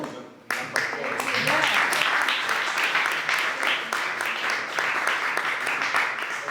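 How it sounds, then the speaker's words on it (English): An audience at an author talk breaks into applause after a short moment of speech, clapping fairly loudly and continuously to the end. "Please another applause"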